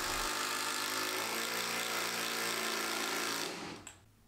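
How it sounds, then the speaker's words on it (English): Long screws are driven into CLS timber framing for a wall in a bungalow. A power driver whirs steadily and close for several seconds, then winds down and stops. "I drove in a few long screws to secure everything in place."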